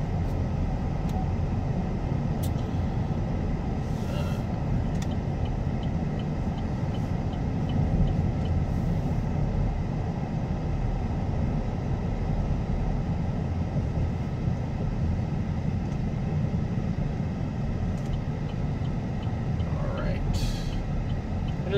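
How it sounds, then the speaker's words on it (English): A pickup truck with a V4 cylinder-deactivation mode is being driven, giving a steady low engine and road rumble heard from inside the cab while someone talks over it. "It is a very nice truck indeed to drive."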